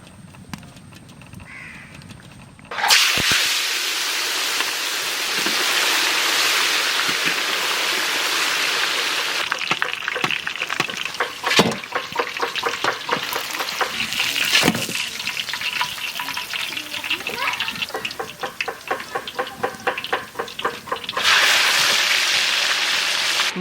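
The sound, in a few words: mustard oil poured into pan, frying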